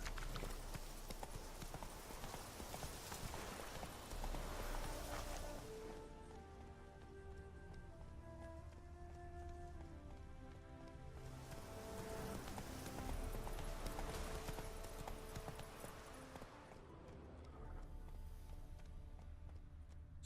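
Steady clip-clop of horse hooves at a quick, even pace in The Witcher 3: Wild Hunt video game, close and fairly loud, with a light rain-like hiss and some tonal music in the middle section.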